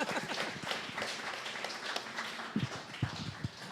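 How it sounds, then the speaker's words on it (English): An audience at a startup networking event claps, giving a scattered, moderately loud patter of many hands that thins into a few separate claps toward the end. "let's do the clapping again"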